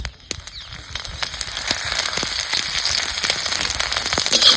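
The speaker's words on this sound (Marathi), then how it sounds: "जिरं टाकायचं आता थोडीशी ह्याला तेलाची धार सोडायची" Cumin seeds crackling and sizzling in hot oil as a thin stream of oil is poured over them while roasting for a village-style corn thecha; a steady close crackle of sharp pops, building gently toward the end, with no talk.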